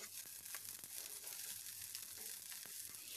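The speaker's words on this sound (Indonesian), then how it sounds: "tumis atau goreng bawangnya sampai wangi, sampai warnanya berubah kecoklatan" Sliced shallots fry in hot oil, a faint, even sizzle with small crackles and pops scattered throughout, quiet and close, no talk.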